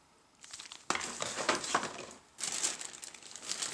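A plastic bag holding a pack of Comet fireworks crinkles and rustles close by in a few bursts with brief pauses between them, with no talking.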